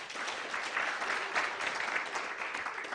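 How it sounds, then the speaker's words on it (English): An audience at an expo applauds in a steady, fairly distant wash of clapping that holds evenly for a few seconds. "Can we give them a clap?"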